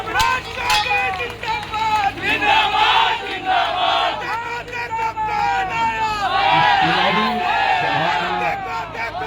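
A large crowd at an NDA political rally for the Bankipur by-election shouts and cheers in rising and falling waves of voices, a dense close mix of yelling and chanting that carries without pause.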